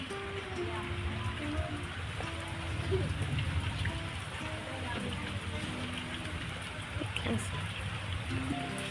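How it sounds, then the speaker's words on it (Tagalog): Rain falls steadily, a continuous hiss of drops on surfaces with some trickling water, at moderate level, with faint voices now and then beneath it. "It's raining na."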